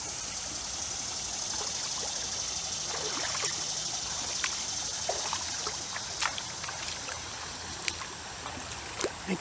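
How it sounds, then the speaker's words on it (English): A forked stream flowing outdoors, a steady even hiss of running water with scattered small splashes and clicks, close and moderately loud, no voices. "And follow that fork of the stream over there."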